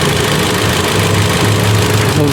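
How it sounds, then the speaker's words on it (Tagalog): A Ford EcoSport engine idles right after starting, a steady, loud, close mechanical hum and rumble that continues without a break. "bali in-start ko na yung makina."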